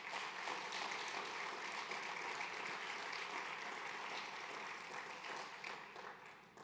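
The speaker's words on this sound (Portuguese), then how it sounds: "Eu gostaria que você aplaudisse a Jesus pela vida deles." A church congregation at a Thursday service applauds together, a dense wash of clapping that holds steady and then fades slightly toward the end, fairly quiet and distant.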